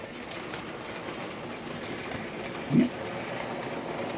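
An OO gauge Black 5 model locomotive runs on Dublo 3-rail track, giving a steady, soft motor whir and rail rumble with one brief louder clunk partway through.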